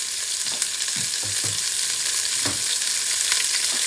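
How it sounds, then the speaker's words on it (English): Yellow onion frying in fat for Persian chicken stew crackles with a dense, bright sizzle, punctuated by several soft stirring thumps and scrapes at uneven intervals, close and fairly loud. "Using the same fat, I'm going to add the onions."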